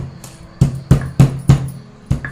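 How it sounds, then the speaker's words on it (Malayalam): Six sharp, close cracking knocks in an uneven rhythm as cardamom pods are crushed one after another. "ഇനി നമുക്ക് ഏലക്കായ കൊടുക്കണം ഏലക്കായ ഒന്ന് പൊട്ടിച്ചു"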